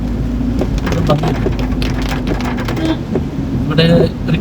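Steady rain pours down outdoors during a rainy-season training session among buildings in Kerala, a dense continuous hiss with occasional louder bursts, and a voice talks over it.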